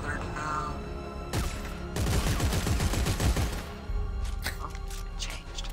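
Gunfire from shooting at enemies in the sci-fi horror video game Dead Space 3: a dense, rapid burst of loud shots over game noise, with sharper scattered shots afterward and a voice briefly heard.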